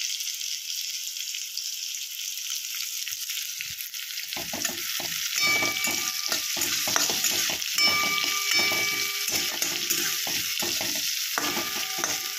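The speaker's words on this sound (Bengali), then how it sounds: "এবার আলুর সঙ্গে পেঁয়াজটা একটু ভাজা ভাজা হোক," Potato with onion and green chilli fries in a kadai, a steady hiss joined after a few seconds by rhythmic stirring and scraping strokes that carry on close up.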